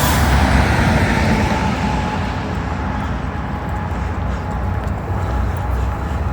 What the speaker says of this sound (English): it's very noisy in a truck stop